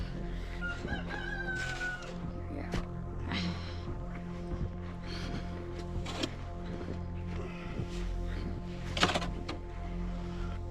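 Roosters crow and hens cluck at a snow-buried homestead coop, the calls repeating over a steady low hum with occasional louder bursts, fairly close by.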